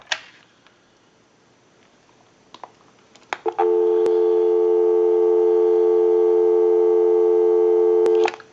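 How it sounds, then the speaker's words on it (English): A few faint clicks and handset clunks on a Western Electric Trimline telephone, then a steady, loud dial tone hums continuously for several seconds before ending. "Go ahead and give you some dial tone."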